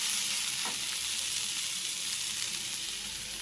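Garlic and onion frying steadily in a pan for fish puttu, a dense, continuous hiss and sizzle with a faint stirring scrape near the start.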